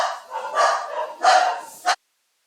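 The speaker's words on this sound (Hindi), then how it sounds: "यार कुत्तों ने तो परेशान कर रखा है।" Dogs bark close by in a quick, overlapping flurry of sharp yaps and barks lasting about two seconds, then stop abruptly into silence.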